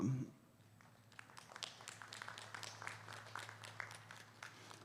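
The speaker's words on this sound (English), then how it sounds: "let's go ahead and give these juniors a round of applause" Scattered applause for junior exhibitors at a Milking Shorthorn cattle show at a state fair, faint and distant, with loose, uneven claps across a quiet show ring after a brief sound at the start.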